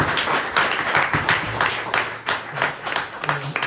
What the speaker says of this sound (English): a big round of applause for Casey.